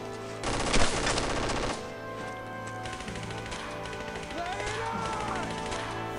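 MG-42 machine gun fire in the WWII shooter Brothers In Arms: Road to Hill 30, a dense, loud burst of rapid rattling shots followed by continued gunfire and battle noise.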